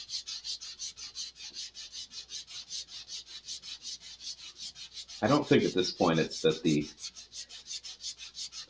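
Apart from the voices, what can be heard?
sanding a model rocket part with sandpaper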